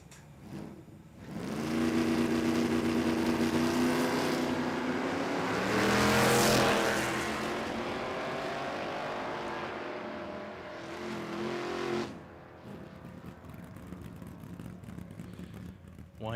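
Drag racing cars, among them a custom-built Camaro, launch and roar down the strip at Willowbank Raceway in a loud rising engine blast that fades after about ten seconds, with faint voices underneath.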